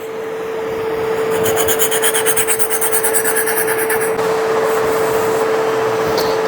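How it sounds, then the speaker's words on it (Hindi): Steel knife blade rubbed back and forth on a sharpening stone to take off the burr, a steady close rasping scrape repeating in quick strokes throughout, with a constant tonal hum underneath. "तो अभी इसी पत्थर पे ही मैं इसको इसका बर जो है वो रिमूव करूँगा।"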